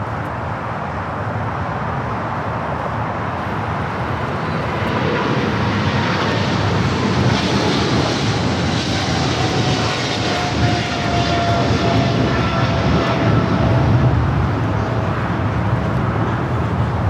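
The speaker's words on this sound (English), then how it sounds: "Eva Air Cargo 621 taking off to Taipei on the 777 freighter." An Eva Air Cargo Boeing 777 freighter taking off from LAX runway 25 left, a loud sustained jet roar that swells after a few seconds and holds strong, heard alone.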